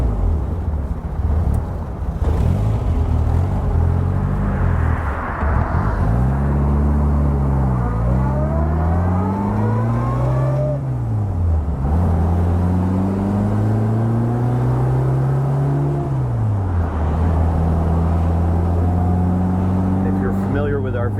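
1960 Austin-Healey Bugeye Sprite engine on twin H1 carburetors, revving up and down through gears in repeated rising whines and drops, loud and close from inside the car.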